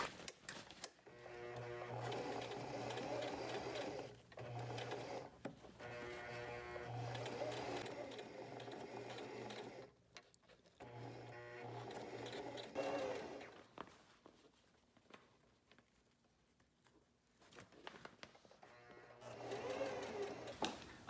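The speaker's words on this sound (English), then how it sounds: "I'm gonna hold it this way and sew it and spin it like that." A sewing machine stitches a homemade gym bag in repeated bursts of fast mechanical chattering, each run a few seconds long, separated by short pauses while the bag is turned, close and clear with no talking.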